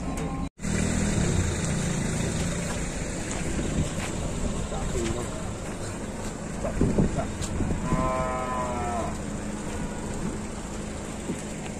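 A single cow moos clearly for about a second amid steady outdoor background noise while being loaded onto a truck, with a brief thud earlier and faint murmuring.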